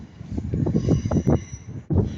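A Class 156 diesel multiple unit passes at Ardwick, its rumbling wheels and engine rolling by close with rhythmic clatter over the rails and some wind buffeting on the microphone.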